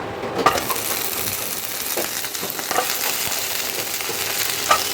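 Hog plums go into hot oil and fry with a loud, steady, close sizzle, broken by a few faint clicks and taps from the pan, with no talking.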